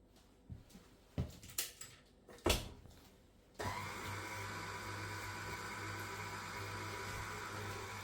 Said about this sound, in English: The whisk is on and I'm just going to whisk it up.